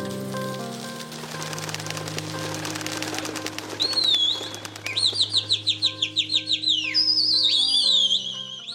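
A flock of pigeons flaps its wings in rapid bursts over city buildings, with high chirping whistles overhead, after a stretch of background music.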